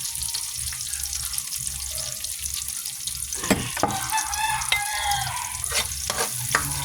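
Beaten eggs with parsley fry in a pan under a steady, close sizzle, and about halfway through, brisk stirring strokes and scraping clatter join in at an uneven pace.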